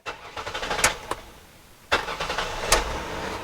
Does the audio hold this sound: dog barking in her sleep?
no